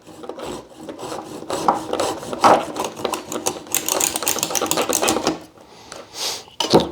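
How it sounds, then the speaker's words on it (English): Cutting a bonsai root at an angle produces close, scratchy rasping cuts in irregular bursts, with short pauses between strokes of the blade against the woody root. "I'm just going to cut at an angle to a root that's underneath"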